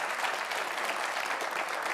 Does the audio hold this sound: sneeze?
no